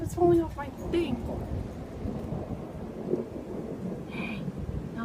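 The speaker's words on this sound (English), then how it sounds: "Springtime, everyone. Thunderstorms." A spring thunderstorm with deep rumbling thunder rolling over steady rain, a loud crack early on, then continuous wash of rainfall and wind, with a brief voice partway through.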